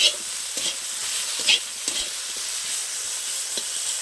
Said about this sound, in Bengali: হলুদ আর লঙ্কার গুঁড়োটা দিয়ে দেবো দিয়ে ভালো করে কিন্তু আমি এইভাবে কষিয়ে নেব